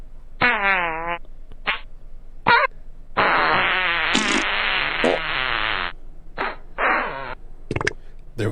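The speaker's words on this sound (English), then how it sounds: "That was 10 seconds of me just playing fart sounds." Played fart sound effects, several short squelchy blasts and then one long buzzing, pitch-wobbling fart several seconds long, followed by more brief bursts, loud and close with no talk.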